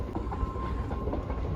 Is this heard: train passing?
yes